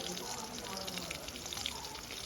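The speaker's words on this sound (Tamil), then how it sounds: "பாவக்காய் பொறிக்கிறோம்" Bitter gourd slices fry in hot oil in a pan, giving a dense, continuous crackling sizzle that stays close and fairly even throughout.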